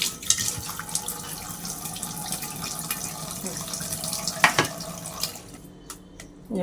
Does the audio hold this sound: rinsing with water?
yes